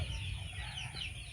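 Native desi hens, young pullets that have just started laying, give faint, continuous low clucking with a steady background hum throughout.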